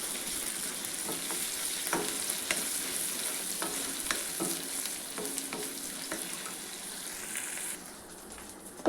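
Ginger garlic paste frying with browned onions for a Telugu spine gourd curry, a continuous crackling sizzle with repeated spoon scrapes and knocks against the pan, close and steady, sizzle easing near the end, no speech.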